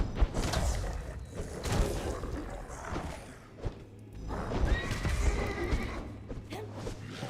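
A horse neighs in the video game Conan Exiles, one clear whinny over soft thuds and low game ambience, with faint speech in the background.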